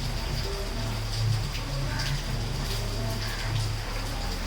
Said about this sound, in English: the way it's raining